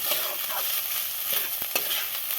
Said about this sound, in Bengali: এবার আমি গ্যাসের বাতি লো করে আমি ভাজতে থাকবো